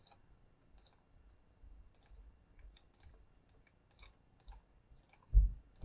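Computer mouse clicks, sparse, faint and crisp, spread across near silence with uneven gaps, followed by a louder thump at the very end.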